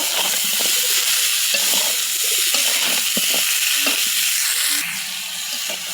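Vegetable stems sauté with garlic, cumin, turmeric and salt in a pan under a loud, steady frying hiss, with faint scrapes of stirring scattered through it.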